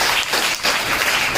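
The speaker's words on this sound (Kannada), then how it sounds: "ಅದಕ್ಕೊಂದು ಜೋರಾದ ಚಪ್ಪಾಳೆ ಬರಬೇಕು ನಮ್ಮೆಲ್ಲ ಶಿಕ್ಷಕರು." Loud applause for teachers at a school student talent competition, a dense wash of many hands clapping steadily for a moment with no voices over it.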